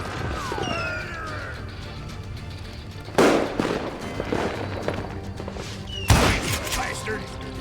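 Gunfire in the Western shooter game Call of Juarez Gunslinger, with two sharp, loud blasts a few seconds apart that echo and crackle, among other game noises and voices talking.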